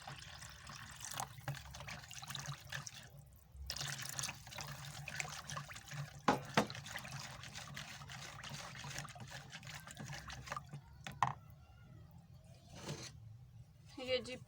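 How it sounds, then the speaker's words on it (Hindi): Water is poured and stirred into a bowl of dahi baray seasoned with chaat masala, giving faint trickling and splashing with a few sharp clinks of the spoon, under a quiet kitchen background. "थोड़ा सा पानी शामिल करेंगे।"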